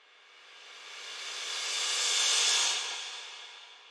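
Reversed crash cymbal with frozen, duplicated reverb for an organic house track, a washy hiss swelling steadily to a peak and then fading, smooth and atmospheric with no voices.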